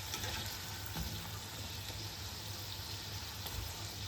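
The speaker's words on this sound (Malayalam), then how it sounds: "കുറച്ച് ചെറിയ ചൂടിൽ നമുക്ക് ഫ്രൈ ചെയ്തെടുക്കാം" Gujiya pastries fry two at a time in oil on low heat, giving a soft, even, continuous sizzle and bubbling, with a couple of faint taps from a utensil and no speech.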